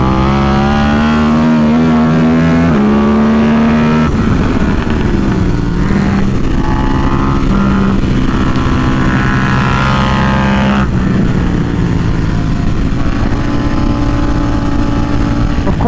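A KTM RC8C motorcycle under way, its engine roaring loud and close, climbing through revs, dropping at shifts and rising again in repeated surges over steady wind rush, with no talk.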